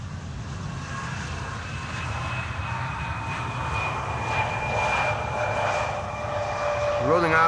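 A KLM Embraer 175 jet lands at Schiphol's Polderbaan runway 18R, its engines roaring steadily and loudly close by, with a rising whine near the end, while a voice talks over it.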